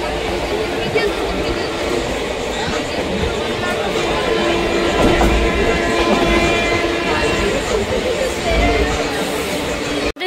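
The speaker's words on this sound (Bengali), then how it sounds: "ট্রেন এই জাস্ট ঢুকলো" Kolkata–Haldibari Express 12363 pulling into platform 2 at Rampurhat Junction, a loud continuous rumble and clatter of rail cars heard close by for about ten seconds, with voices mixed in.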